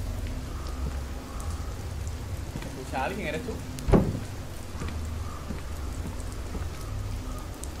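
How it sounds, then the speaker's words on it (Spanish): Steady rain falls in the horror game Fears to Fathom, a constant hiss throughout, with a single louder crack partway through and people talking in Spanish over it. "¿Cómo llueve, tú?"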